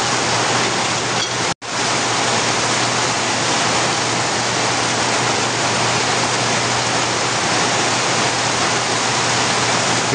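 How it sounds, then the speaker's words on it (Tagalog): Heavy rain pours steadily outside a motorcycle repair workspace, a loud continuous broadband hiss with a brief dropout near the start and no speech. "Lakas ng ulan dito sa amin mga bro."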